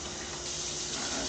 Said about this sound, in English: Need a fair amount of water because that's a fair amount of pasta.